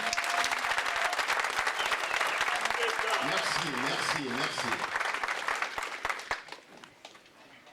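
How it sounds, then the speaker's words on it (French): Thunderous applause from the Congolese community in London welcoming a guest, dense and sustained, with a voice speaking over it midway before the clapping thins into scattered claps and fades. "Encore une fois de plus, des tonnerres d'applaudissements"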